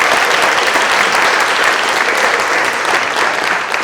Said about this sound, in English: So a round of applause just recognizing them.